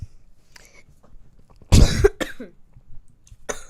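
A single harsh cough, close and loud, followed by a brief throat-clearing sound amid quiet room noise.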